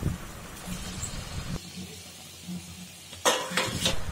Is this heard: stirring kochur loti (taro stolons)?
yes